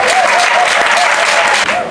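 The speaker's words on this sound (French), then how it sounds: "Je vous demande de bien vouloir applaudir cette noble institution" Audience applause at an International Women's Day political event, a steady dense clapping crowd sustained at full level for the whole stretch with no talk over it.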